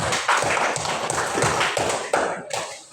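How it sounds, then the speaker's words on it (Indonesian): Classroom applause for a student group in an Indonesian coding lesson: a dense burst of clapping hands from a room of pupils, steady and close for a few seconds before thinning out near the end. "kasih tepuk tangan dulu untuk kelompok Azim."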